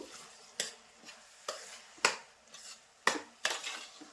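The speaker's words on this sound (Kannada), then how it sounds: "ಅನ್ನಕ್ಕೆ ಬೆಲ್ಲ ಮತ್ತು ತೆಂಗಿನಕಾಯಿ ಚೆನ್ನಾಗಿ ಹೊಂದ್ಕೋಬೇಕು ಅಲ್ಲಿವರೆಗೂ ಚೆನ್ನಾಗಿ ಹುರಿತಾ ಇರಬೇಕು" A metal spoon scrapes and knocks against a pan while rice with jaggery and coconut is stirred and roasted, giving about eight sharp, irregular clinks over a quiet background.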